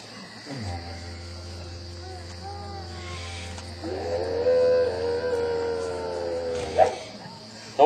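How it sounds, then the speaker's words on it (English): A didgeridoo played by blurting the lips gives a deep, steady drone that starts a moment in and holds throughout, with a brighter overtone swelling later, outdoors at Healesville Sanctuary. "To play didgeridoo, all you got to do is blurt your lips."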